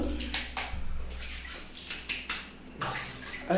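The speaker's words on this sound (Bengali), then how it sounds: "আজকে করানো হচ্ছে ডোডোকে স্নান" Water splashes and pours in uneven bursts while a pet is bathed, with close sloshing sounds repeating throughout the short stretch.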